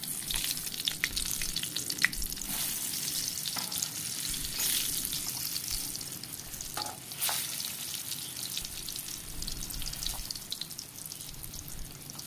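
Saba bananas (plantains) fry in used cooking oil with a steady, moderate sizzle and crackle, punctuated by occasional brief pops and spatters, heard alone at close range.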